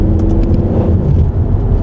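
Mercedes C63 AMG 507 Edition accelerating hard in second gear from about 30 mph, a loud, deep engine roar heard from inside the car, steady and close throughout.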